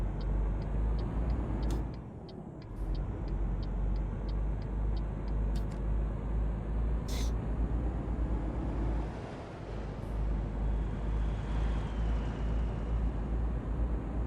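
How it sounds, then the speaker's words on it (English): A heavy truck engine in Euro Truck Simulator 2 rumbles steadily with a deep low drone, joined by a regular ticking indicator and occasional clicks. "the engine on this truck definitely sounds more impressive"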